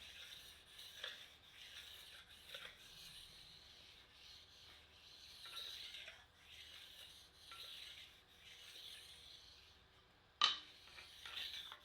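Intermittent gritty rubbing strokes of a 2000 grit sharpening stone worked over a scraped Monarch 10EE lathe surface, faint rasping passes every second or two, with one sharper clink near the end.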